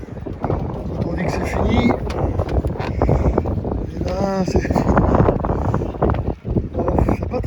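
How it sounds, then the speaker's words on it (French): Gusty wind buffets the microphone on a boat, a heavy low rumble running throughout, with people talking over it in places. "il y a un peu de vent ce matin, cet après-midi"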